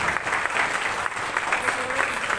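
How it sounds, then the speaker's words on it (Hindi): An audience at a women's achievement award ceremony claps steadily to welcome a guest being honored on stage, an even, continuous applause with no break throughout. "जोरदार तालियों से स्वागत कीजिए"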